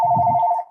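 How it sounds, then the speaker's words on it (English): A mobile phone sounds a short electronic tone, a single sustained beep lasting under a second with a faint low murmur beneath it. "sorry, that was my phone."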